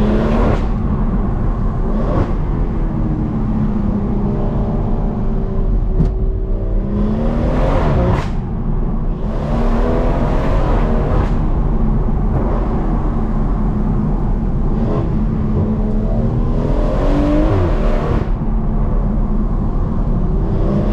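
A BMW M140i's exhaust roars as its 480 bhp stage 2 tuned engine revs hard and accelerates, pitch climbing repeatedly through several loud, close bursts.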